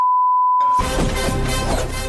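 A censor beep in a Tamil TV game show clip, one steady high tone that cuts off abruptly into loud, busy audio with voices and background noise.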